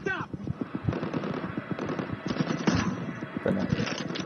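Rapid automatic gunfire from a zombie drama series episode, loud bursts of rattling shots running continuously with shouting voices mixed underneath.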